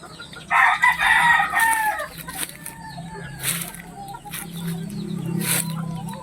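Backyard chickens and a rooster wait to be fed at seven in the morning: a loud nearby crow followed by busy clucking and scattered calls from the flock, with a low murmur of activity beneath.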